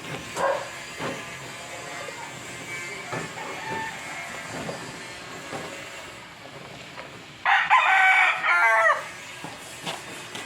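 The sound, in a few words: chicken rooster crowing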